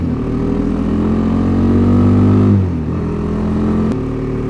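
Kawasaki KLX250 dirt bike riding along a road, its single-cylinder engine droning steadily and rising slightly in pitch before easing off as the rider backs off the throttle, close and loud with no talking.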